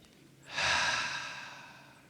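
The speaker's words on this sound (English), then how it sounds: "Once again, we take a nice deep breath" A single slow, deep breath drawn in during a guided relaxation prayer, starting soft and swelling into a long airy rush that slowly fades away, close and quiet with no talking.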